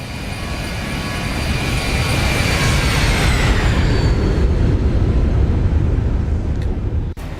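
A jet airliner in a flight simulator passes by in a loud, steady roar that builds and then fades as it moves away, with a descending whine near the end and no talking.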